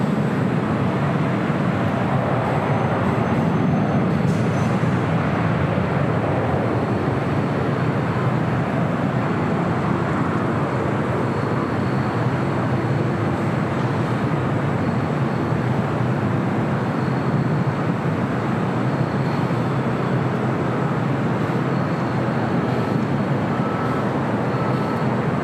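United airliner rolling for takeoff on runway 25 right at LAX, a broad steady jet roar with a low rumble that stays constant and fairly loud throughout, with no voices over it.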